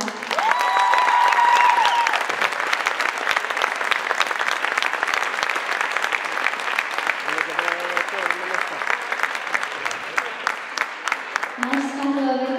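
A crowd at an Icelandic team gymnastics championship gives the gymnasts a long, dense round of applause, loud and sustained throughout, with faint voices and a brief announcer's voice mixed in toward the end.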